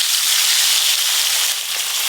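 Fesa fish frying in a pan of hot oil, a steady dense hiss and crackle that holds evenly throughout, close up with no voices over it.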